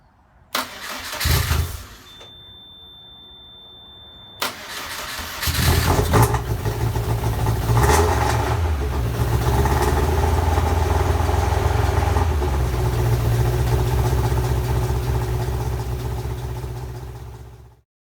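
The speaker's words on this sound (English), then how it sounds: "So I'm going to start the engine." A car engine, just fitted with a fixed spark plug, cranks briefly with the starter and then catches, settling into a loud, steady idle that runs close by with no talk until it cuts off.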